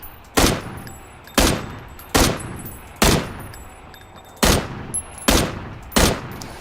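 Gunfire in the video game PUBG comes as seven sharp, loud single shots spaced roughly a second apart, each ringing out briefly before the next.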